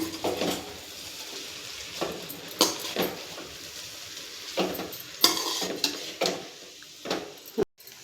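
Egg noodles are stirred and tossed in a pan with a spatula, giving irregular scraping clacks and light knocks over a faint sizzle, close by and without talking.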